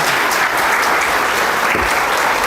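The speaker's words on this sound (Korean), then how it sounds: "시장님께 다시 한번 박수 부탁드립니다" A room of Gunwi County public servants applauds the mayor at a staff talk event, a dense, loud, continuous burst of many hands clapping with no voices over it.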